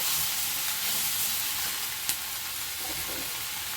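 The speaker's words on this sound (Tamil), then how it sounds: "அந்த குடமிளகாயும் தக்காளியும் ஒரு ராஸ்மெல் போகிற வரைக்கும் கொஞ்சம் வதக்கிட்டு" Capsicum and tomato sauté in a pan with a dense, continuous sizzle and hiss, close and steady, with one brief knock partway through.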